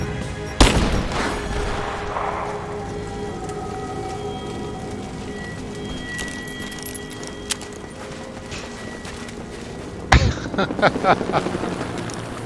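A grenade goes off with a sharp blast in the video game Rise of the Tomb Raider, trailing into a long rumbling tail, then a later burst of rapid gunfire cracks near the end; no talk.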